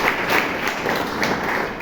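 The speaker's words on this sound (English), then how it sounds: "A round of applause." An audience at a Toastmasters meeting in Bangalore breaks into steady, dense applause, a continuous wash of many hands clapping in a room with no speech over it.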